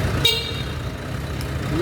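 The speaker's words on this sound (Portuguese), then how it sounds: "Buzina." A vehicle horn being tested after starter-motor repair work sounds one short, bright toot over a low, constant engine and background hum.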